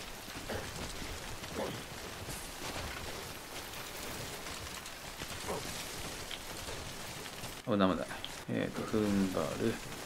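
Steady rain hisses over the outdoor terrain in Death Stranding throughout, loud and continuous, with a voice breaking in briefly near the end.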